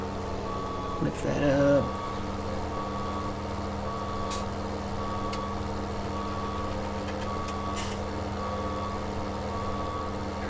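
In Farming Simulator 17, a farm vehicle backs up with repeated evenly spaced electronic reversing beeps over a low idling engine hum, with a brief clatter near the start and someone talking.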